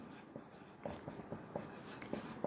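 A pen writes on paper during a maths lesson, giving faint, close scratchy strokes in short repeated bursts with no speech.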